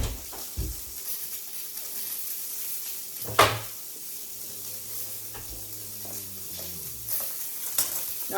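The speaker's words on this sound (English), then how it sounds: "I'm going to try to get some olive oil in here because we're going to fry these mushrooms" Mushrooms fry in olive oil in a pan on a home stove, a quiet, steady sizzle with a loud clatter partway through and scattered utensil clicks, close by and without talk.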